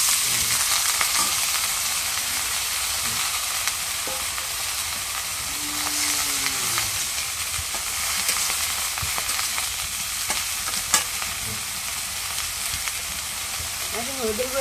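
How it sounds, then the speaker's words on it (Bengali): Chopped eggplant fries in hot oil with cumin and fried onion, a steady close sizzle and hiss broken by occasional scraping stirs of a spatula in the pan. "এখন পেঁয়াজ ভাজা এখানে বেগুন গুঁড়া দিয়ে দিই।"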